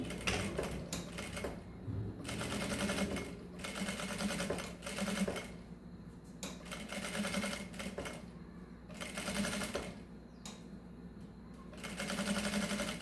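A sewing machine stitches a seam on a mesh-fabric fanny pack in several bursts of rapid mechanical whirring, separated by brief pauses and close handling noises. It is near and fairly quiet, with no talking.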